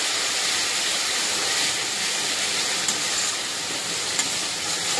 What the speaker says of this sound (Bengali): ভালো করে কষাবো মশলাটা দিয়ে।